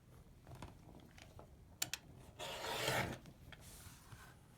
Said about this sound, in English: When that rotary cutter hits sweatshirt, that rotary cutter just eats it up like a lawnmower